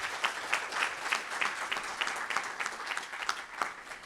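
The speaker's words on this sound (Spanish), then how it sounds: "Un aplauso también para Alexis Calerge." An audience applauds at an academic event, a steady patter of many hands clapping at a moderate distance, fairly soft and even throughout.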